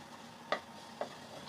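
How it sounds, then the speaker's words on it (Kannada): Kasuri methi (dried fenugreek) frying in hot oil for chicken gravy masala, a faint soft sizzle with two quick sharp ticks of a spoon against the pan. "ಸ್ವಲ್ಪ ಕಸ್ತೂರಿ ಮೆಥಿ ಹಾಕ್ತಾಯಿದ್ದೀನಿ. ಈ ಕಸ್ತೂರಿ ಮೆಥಿ ಸ್ವಲ್ಪ ಚೆನ್ನಾಗಿ ಫ್ರೈ ಆಗಲಿ."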